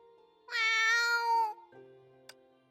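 A cat in the Honkai Impact 3rd video game gives one loud, drawn-out meow, followed by quieter game sounds and a brief faint tick.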